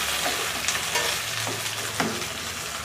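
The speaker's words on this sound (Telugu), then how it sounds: "ఇది మొత్తం వేసేసి బాగా కలుపుదాం" Chopped onions, green chillies, curry leaves and coriander stirred and frying in a hot pan for diabetic-friendly idli podi upma, a steady close sizzle with soft scraping strokes of the spoon, no voices.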